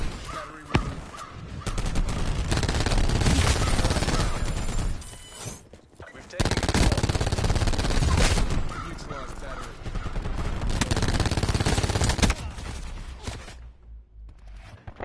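Gunfire in Call of Duty: Black Ops 4, loud sustained bursts of shots in several long stretches separated by short lulls, with a voice talking over the action.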